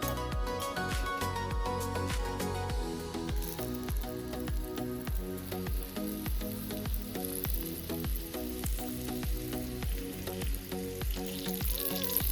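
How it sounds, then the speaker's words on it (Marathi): Oil sizzles and crackles steadily in a hot pan while prawns are fried for a Goan-style rava fry, a dense continuous frying hiss with rhythmic stirring pulses, close and fairly loud throughout with no talking. "आता आम्ही तेल घालूया."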